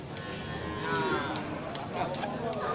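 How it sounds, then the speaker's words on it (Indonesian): Aceh cattle lowing repeatedly at a livestock market stall, several drawn-out moos rising over a steady crowd murmur, with people talking faintly in the background. "Ya mantap kumpulan sapi-sapi Aceh."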